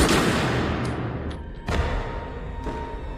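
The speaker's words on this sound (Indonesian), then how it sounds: "setelah itu menembak mati Mang Asep." Gunfire from a John Wick action film scene: a loud, booming shot with a long reverberant tail, then two sharper shots, with no talking.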